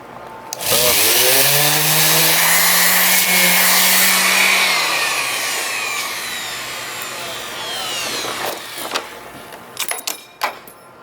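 An electric sander on wood, its parts partly detached, spins up with a loud whirring buzz that winds down after a few seconds, followed by scattered knocks and rattles.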